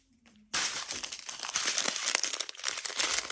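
Plastic packaging crinkles loudly and steadily during the unboxing of a diamond painting kit, starting abruptly after a short quiet moment and continuing in dense, close rustling bursts.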